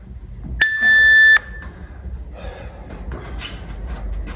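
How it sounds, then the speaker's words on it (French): A single loud electronic beep from a workout timer rings for under a second, then fades into quiet room noise with faint movement. "Jusqu'au bip."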